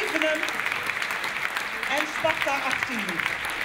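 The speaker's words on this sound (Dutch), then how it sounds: "Dit alles onder luid applaus, want er waren ruim 700 aanwezigen." Loud applause from a large audience of about 700 people at a Rabobank club fund campaign event in Venray, steady clapping throughout with a few voices and faint talk mixed in.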